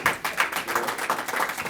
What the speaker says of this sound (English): too much clapping